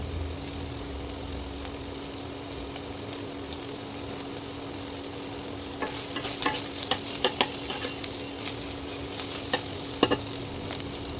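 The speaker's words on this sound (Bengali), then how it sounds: "এবার চিকেন আর ডিমটাকে একসঙ্গে একটু নাড়িয়ে দিই।" Chicken and egg fry in a pan under a steady hiss of sizzling, with a constant electrical hum, while a spatula scrapes and taps the pan in clustered strokes during the second half.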